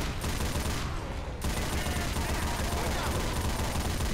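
Sustained minigun fire in the Left 4 Dead 2 Sacrifice campaign, a dense continuous roar of rapid shots that barely dips for about four seconds, with game chaos layered in.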